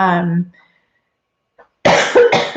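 A single person coughs briefly, then after a pause of near silence speaks.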